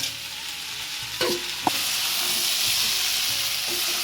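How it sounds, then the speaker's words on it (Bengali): Plain chowmein stir-frying in a pan as a pre-fried egg goes in: a steady close sizzle with a couple of sharp scrapes and knocks near the middle, then even frying continues. "এই যে চাউমিনটা একটু ভেজে নিয়েছি, এবার আমি এর মধ্যে ডিমটা আগে থেকে ভেজে রেখেছিলাম, এবার দিয়ে দেবো।"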